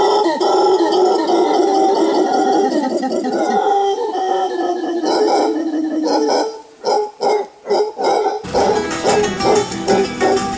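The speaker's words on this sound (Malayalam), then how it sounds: "അതിൻ്റെ പേര് തന്നെ ഹൗളർ മങ്കി എന്നാണ്." Howler monkeys in Costa Rica let out loud, rough calls that sound like dogs barking, first a sustained raspy roar, then a run of short separate barks and a final rising chorus, all alone without talk.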